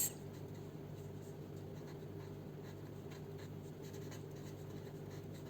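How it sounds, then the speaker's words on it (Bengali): Marker or chalk writing the names of algae on a classroom board during a Bengali-language HSC biology lesson, a faint, steady scratchy stroking that runs throughout over low room hum, with no talking. "নামগুলো একটু লিখে দিচ্ছি আমি"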